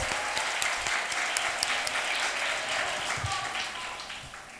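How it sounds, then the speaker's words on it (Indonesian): Applause for madrasah students graduating today fills the room, a dense sustained clapping from a crowd that holds steady and fades slightly toward the end, with no speech over it. "Sekali lagi tepuk tangan untuk santri yang hari ini lulus."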